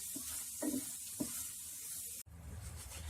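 Mutton pieces fry with spices in a pan for crispy mutton fry. A soft, continuous sizzle is broken by a few scraping stirs, and then the sound cuts abruptly to a quieter hiss.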